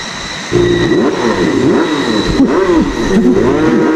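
Several motorcycles pass close by one after another, engines revving and dropping in pitch as each sweeps past, loud and overlapping.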